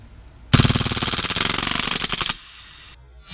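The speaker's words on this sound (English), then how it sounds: "I'll show you some, just blowback action shots" An Umarex M712 CO2 BB machine pistol fires a blowback full-auto burst, a loud close rattle of rapid shots lasting nearly two seconds, followed by quiet and a faint mechanical click.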